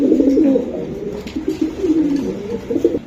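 A male racing pigeon coos up close, a loud run of throaty, rolling calls repeated in a steady rhythm with no talking over it.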